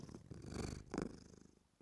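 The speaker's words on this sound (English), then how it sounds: "She says, purr." A pet cat purring close up, two soft rumbling swells in quick succession, quiet and intimate, with no one talking.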